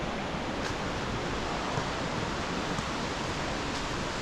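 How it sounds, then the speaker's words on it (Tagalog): Steady broadband rush of a waterfall at Malatan-og Falls in Don Salvador Benedicto, Negros Occidental, a constant hiss with no breaks and no voices. "So I can hear the waterfalls."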